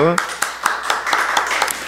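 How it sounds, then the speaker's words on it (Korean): A congregation at a Sunday church worship service claps in a steady, even rhythm of distinct beats. A brief voice comes first, and then the clapping continues alone at moderate loudness. "감사의 박수."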